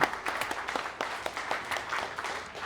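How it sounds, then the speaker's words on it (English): A crowd applauds steadily, dense overlapping claps forming a continuous wash of clapping that stays fairly even throughout. "Let's give a big round of applause"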